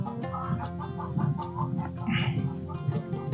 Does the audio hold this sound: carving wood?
no